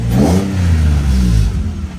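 A Nissan GT-R at a car meet accelerates hard past, its engine revving loudly with a rising, harmonic growl that holds for over a second before easing off.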